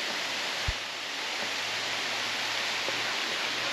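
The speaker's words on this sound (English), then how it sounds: "And there's the waterfall." The waterfall at Cedar Falls gives off a steady, broad rushing roar, even and continuous from a moderate distance, with a single faint thump early on and no talking.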